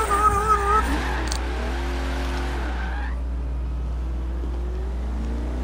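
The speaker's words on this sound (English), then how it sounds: "all I hear is supercharger whining" A 1400-wheel-horsepower drift car in Forza Horizon 3 gives off a tonal supercharger whine that rises and falls in pitch with the revs, first louder with engine roar and then fading to a thinner sustained whine.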